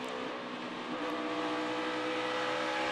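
NASCAR stock cars race at Darlington Raceway, with a continuous distant engine roar and drone that swells slightly as the field passes and no talk over it.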